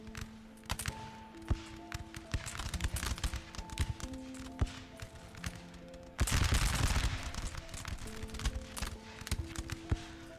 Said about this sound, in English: See if this unit will get a volley off.